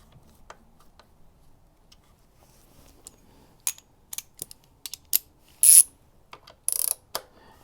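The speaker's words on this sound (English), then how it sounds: "So the countersunk bolt you tighten with the 4mm." A Cruise Tools 4mm 3/8 drive ratchet tightens a countersunk bolt on a Touratech motorcycle final drive guard, giving a series of close, crisp ratcheting clicks in short uneven bursts over near silence.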